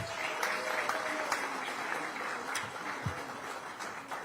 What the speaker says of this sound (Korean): 큰 박수 한번 주시기 바랍니다.